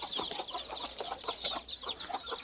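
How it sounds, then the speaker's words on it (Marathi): Desi country chickens, hens with twelve-day-old chicks and a rooster, cluck and cheep continuously in a close, busy chorus of short overlapping calls, with no talk. "आपल्या पिल्लं आहेत आणि कोंबडा आहे"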